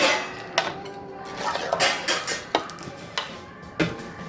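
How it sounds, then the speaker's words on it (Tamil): A utensil stirs thick peanut candy syrup in a pan with the heat switched off, giving a series of scraping, clinking strokes against the metal at an irregular rhythm, close and moderately loud. "ஆஃப் பண்ணிட்டு கிண்ட போகிறேன்."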